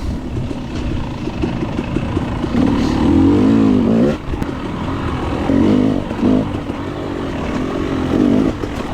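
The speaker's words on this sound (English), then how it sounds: "So I think this is Bobby Wilt on the Yamaha, the 60 plus" A Yamaha dirt bike in the 60-plus class races through tight, dusty woods at a hare scramble, its engine droning steadily with rising revs and a nearby roar in the middle, with no voices.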